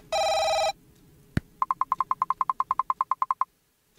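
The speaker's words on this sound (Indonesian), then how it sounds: "Ada telepon." Inside a burger restaurant video game, a shrill electronic tone opens, then a click, then a telephone bell rings in a quick run of about fifteen bright, even pulses that stop abruptly, clear and close with no voices.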